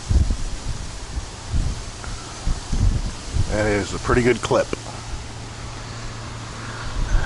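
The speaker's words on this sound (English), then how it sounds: "The breeze feels extremely good." Outdoor wind blows over farmland in a steady low rumble with rustling, while a person talks briefly in the middle.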